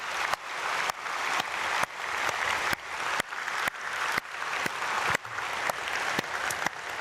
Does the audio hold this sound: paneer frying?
no